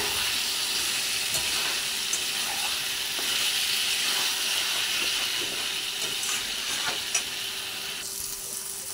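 Chicken sautéing with chili powder in a pan, a steady close sizzle with scraping stir strokes throughout and no talking.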